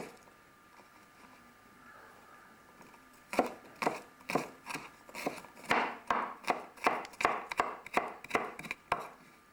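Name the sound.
chopping garlic finely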